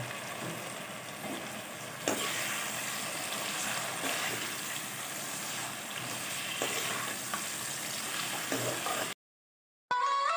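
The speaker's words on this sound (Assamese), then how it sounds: "এয়া মই এতিয়া মাংসখিনি দি দিছোঁ আৰু মাংসখিনি মই ভালদৰে ভাজি ল'ম" Chicken meat frying in a pan for curry, a continuous loud sizzle with occasional stirring scrapes and clicks, cutting out briefly near the end before resuming; no speech.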